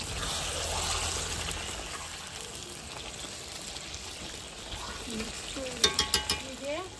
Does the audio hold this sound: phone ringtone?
no